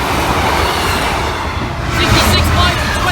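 A Class 156 diesel unit, 156417, running past a level crossing at Kesteven Sidings, a loud close roar of rolling wheels and engine with wind buffeting throughout.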